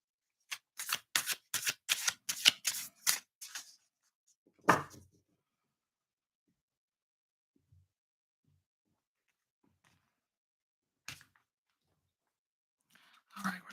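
Stranger Things tarot cards being riffle-shuffled up close, a rapid run of crisp flapping bursts for a few seconds, then a single firm shuffle, with scattered faint card taps and rustles afterward.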